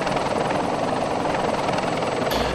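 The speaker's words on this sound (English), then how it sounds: "Just get on the helicopter." A helicopter in a military video game produces a loud, steady rotor roar with a fast rhythmic beat that stays close and continuous throughout.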